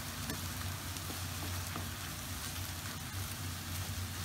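Tomato paste and Worcestershire sauce sizzle in a pan for shepherd's pie, giving a steady, dense frying crackle with faint stirring scrapes.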